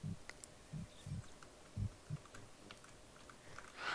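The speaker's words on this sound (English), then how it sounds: "Oh, you can hear your heartbeat faintly." A faint heartbeat in the indie video game I'm Alright, soft low thumps in irregular pairs over a quiet background, with light clicks scattered between them.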